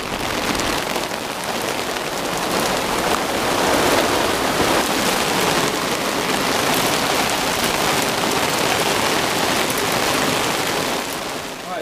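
Heavy rain pours steadily onto a Hymer motorhome awning at a camping rally during a storm, a dense, loud, unbroken patter that holds for the whole stretch with no voices over it.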